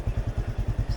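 Honda XRM motorcycle engine idling close by, a steady low throbbing pulse with regular rhythmic beats and a faint clatter, heard alone without talk.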